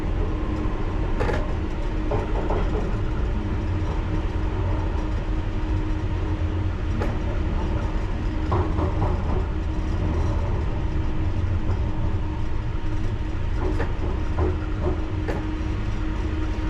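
A London Underground Piccadilly Line train rumbles steadily between stations during engineering works, with a low continuous roar, occasional clicks and rail clatter, heard from inside and with no talk.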